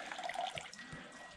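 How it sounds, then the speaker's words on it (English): Water is poured over a stone owl statue at an old temple shrine in rural Japan, giving a brief splashing trickle up close that fades into a softer dribble, with no voices. "You're supposed to pour water"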